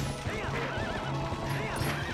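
A horse whinnies with a wavering, high neigh during mounted combat in The Legend of Zelda: Twilight Princess, set over steady clip-clopping hooves and dense game action noise.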